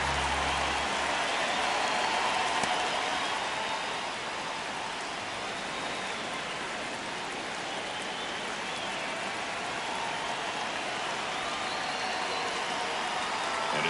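A steady stadium crowd roar from the MLB 26 baseball video game fills a tense ninth inning of a one-run game, holding an even, unbroken wash of noise throughout.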